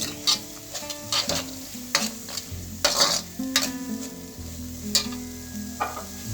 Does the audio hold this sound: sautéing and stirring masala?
yes